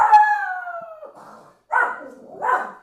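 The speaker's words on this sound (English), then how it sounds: "We hear another dog outside. So he's communicating with him." A dog howls outdoors in a long falling wail, then gives two shorter yowling calls after a brief pause, fairly close and loud with no talk.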